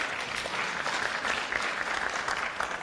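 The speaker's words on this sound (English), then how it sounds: "Clemens, round of applause, please." An audience at a health systems conference session on financing breaks into steady, fairly close applause that continues evenly for a few seconds.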